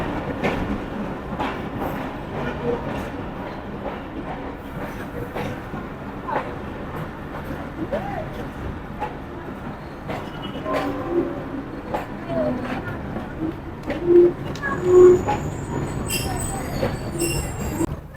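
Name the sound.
train at Gujrat railway station, Awam Express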